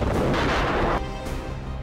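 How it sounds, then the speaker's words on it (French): Massed First World War artillery bombardment on the Chemin des Dames front, one continuous loud roaring rumble of heavy fire that drops slightly in intensity partway through. "Depuis 5 jours, chaque minute, 503 obus ont été tirés sur les lignes allemandes."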